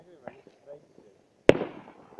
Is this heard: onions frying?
no